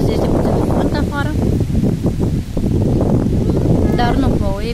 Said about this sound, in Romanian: Astăzi este puțin vânt afară